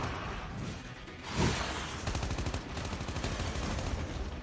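Automatic gunfire in a zombie-mode shooter game rattles in a fast, even stream of shots after a brief whooshing burst, fairly quiet and continuous to the end.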